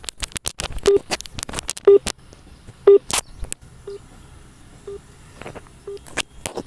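A mobile phone wrapped in aluminium foil fails to connect a call, giving a short beep roughly once per second, mixed with sharp crackling scratches and clicks from handling up close.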